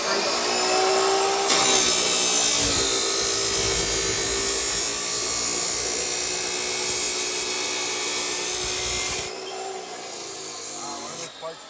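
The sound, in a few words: cutting metal for a turbo Civic hood exit, throwing sparks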